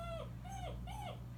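A Great Dane puppy whimpers in three rising-and-falling whines, close and fairly soft, over a steady low background hum.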